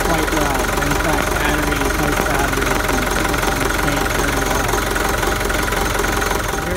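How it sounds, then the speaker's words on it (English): Hino 135HP diesel boat engines idling around 672 RPM: a steady, loud mechanical chug with knocking, throbbing vibration that runs without a break. "we're running the engines at idle at 672 RPM on one side"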